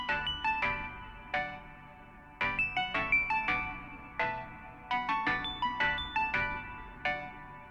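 A plucky, bell-like synth patch from a sound bank with the arpeggiator off and short decay and release plays a quiet melodic phrase of quick, crisp notes in a repeating pattern, alone and without talking.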